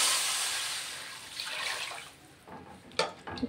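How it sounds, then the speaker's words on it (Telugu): Water pours steadily into a cooking pot of fried bagara rice base, a continuous splashing wash that thins toward the end, with a few brief clinks. "ఇప్పుడు ఇందులోనైతే సరిపడా వాటర్ వేసుకుంటున్నాను నేను."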